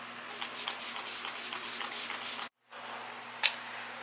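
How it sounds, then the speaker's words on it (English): Kat Von D setting spray misted onto a face during makeup, several short soft aerosol hisses in quick succession, then a brief pause and one more sharp spritz, close and quiet with no talking. "Now I'm just gonna set my face with my Kat Von D setting spray."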